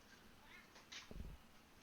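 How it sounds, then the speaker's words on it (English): A single short, faint meow from a cat, heard close to silence. "Even Cheese is excited for that one. Meow"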